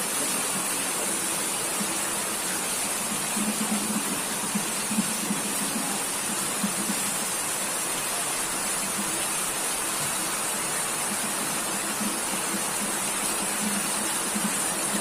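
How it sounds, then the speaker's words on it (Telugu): Heavy rain driven by wind, with water streaming off a concrete roof slab and flooding the road, forming a steady, dense hiss that holds evenly throughout with no voices. "అంత గట్టిగా వస్తుంది వర్షం"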